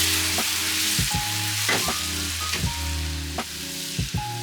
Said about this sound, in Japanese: 香りと色が OK であればレモン汁を入れます